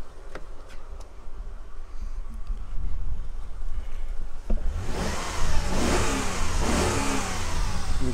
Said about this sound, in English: let's give it a couple of revs while that's open.